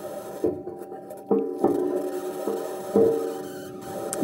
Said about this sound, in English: Let's listen to a drive on Mars.